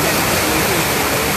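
Floodwater pours over a rain-swollen canal about two metres deep, a steady, loud, unbroken roar of rushing water with no voices.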